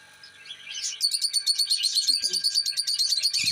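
Pet conure parrots chirping, a quiet rising call first and then a burst of rapid, shrill, repeated chirps up close, with a faint soft knock near the end.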